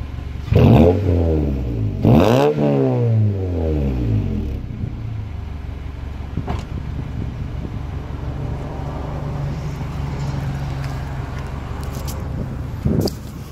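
A 1998 Honda Accord with a crank-but-no-start fault, engine cold, turns over in two loud bursts and then settles into a low, steady idling rumble that continues to the end, with a brief knock near the close.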